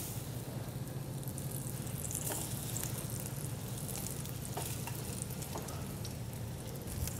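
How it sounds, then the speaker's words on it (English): Plantain, bread and raisins fry in oil in a pan, a steady, continuous crackling sizzle heard close and moderately loud with no talking. "We're actually going to fry the plantain, the bread, and then the raisins in our oil."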